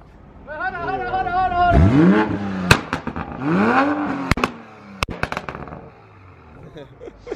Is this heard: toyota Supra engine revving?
yes